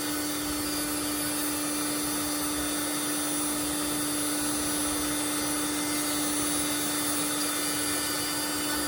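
A Big Green Egg EGGniter electric charcoal starter blows hot air, a loud, steady whirring hum with a constant pitched whine, unbroken from start to finish.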